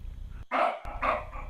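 A person imitates a dog, giving two loud barks close to the microphone, outdoors while deer are nearby, with quiet background noise between the barks.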